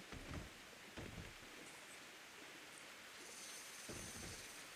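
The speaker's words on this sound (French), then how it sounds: "Il pleut beaucoup, là, dans ce truc-là." Rain falls steadily in the video game Ark: Survival, a soft, constant wash of noise with a few brief louder patters and faint chirps layered over it, no talking heard.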